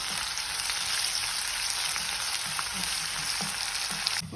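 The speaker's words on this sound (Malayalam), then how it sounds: "നമ്മൾ സവോള നമ്മൾ വറുത്തതുപോലെ" Onion fries in a pan with a continuous, moderately loud sizzle and occasional soft stirring taps.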